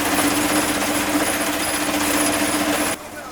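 A cassava grinding machine runs loud and steady in a small garri processing factory, its continuous mechanical roar holding constant before dropping abruptly near the end.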